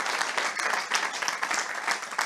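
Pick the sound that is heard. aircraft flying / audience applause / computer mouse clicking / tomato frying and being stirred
audience applause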